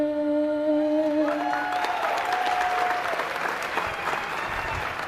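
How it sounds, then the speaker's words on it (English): Applause breaks out from a crowd at a youth livestock show after the national anthem, starting as the last sung note fades and continuing as steady, fairly loud clapping that slowly tapers. "one big round of applause for Abigail Hutchins"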